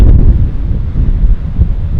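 Strong wind buffeting the microphone on a lava coast by the sea, a loud, heavy, low rumbling rush that gusts continuously without pause.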